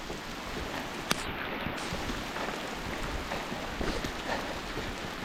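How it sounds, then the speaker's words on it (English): Steady rain falls outdoors on a muddy desert trail on the Kokopelli route toward Moab, a continuous soft wash of drops with a single sharp click early on and no voices. "It's raining if you haven't noticed."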